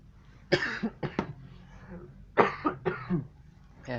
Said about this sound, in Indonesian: Maaf agak batuk.